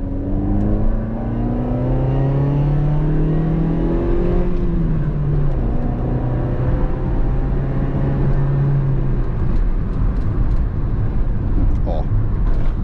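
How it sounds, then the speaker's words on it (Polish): A Daewoo Lanos engine with a stock exhaust runs steadily, revving up and easing back down, its tone rising and falling continuously, close and loud throughout. "w wyższych partiach obrotomierza ten silnik brzmi"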